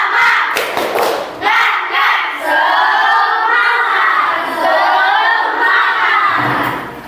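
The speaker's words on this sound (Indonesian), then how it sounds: "2 kali tepuk semangat." A classroom of schoolchildren in an elementary science lesson does a rhythmic spirit clap, a loud group chant and shouting rising over dense clapping and thumps, sustained for several seconds with a brief lull partway.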